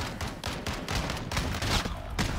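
Rapid bursts of video game gunfire crackle continuously and loudly during an online shooter match, dense overlapping shots with no gaps.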